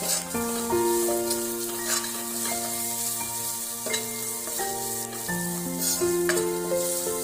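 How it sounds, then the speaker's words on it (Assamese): Banana flower cooked with turmeric and spices fries in a pan, giving a continuous close sizzle with stirring scrapes, under steady background music and no speech. "আৰু এইখিনি দি ভালদৰে লৰাই দিম"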